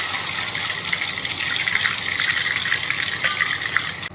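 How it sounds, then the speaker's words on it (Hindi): Ghevar batter made for malai ghevar is poured little by little into hot oil or ghee in a kadhai, giving a steady, close, frothy sizzling hiss that runs continuously with no talk. "अब हम घोल लेकर थोड़ा थोड़ा घोल कढ़ाई में डालते जाएंगे।"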